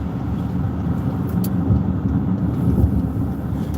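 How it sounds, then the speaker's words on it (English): A car driving past LaGuardia airport in New York during unseasonal snow, with a steady low road rumble and engine drone heard from inside the vehicle, constant and fairly loud, with no voices. "right now, I'm driving right by LaGuardia"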